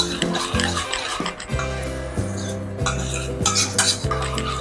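A utensil stirs wet cake batter with vanilla essence in a bowl for a chocolate cake, scraping and clinking against the sides in a steady repeated rhythm, close and moderately loud.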